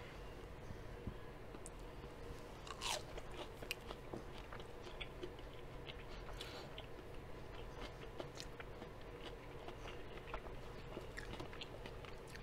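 Crunchy battered fried catfish is bitten and chewed near the mouth in quiet, irregular crisp crunches and soft mastication over a low room background.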